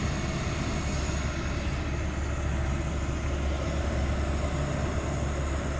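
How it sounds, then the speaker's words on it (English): A truck drives past on a nearby highway, a steady low rumble of engine and tyre noise that stays loud and even throughout, with no talk over it. "excuse the truck driving past on the highway."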